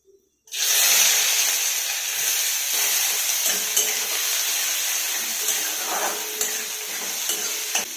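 Chopped onion hits hot oil in a pan for paneer bhurji, bursting into a loud, continuous sizzle with occasional stirring scrapes, ahead of chopped garlic.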